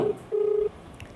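A phone plays a short dialing tone, one brief beep followed by a longer steady tone, clear and close in a quiet room.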